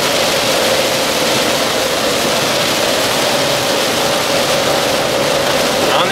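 Heavy rain pours on a car driving along the motorway, a dense, loud, continuous hiss and roar mixed with road and engine noise, with no clear talk.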